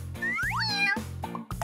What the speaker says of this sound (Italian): Wow, un gattino!